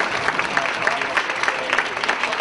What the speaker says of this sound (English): please give a round of applause for Ms. Naomi Millender.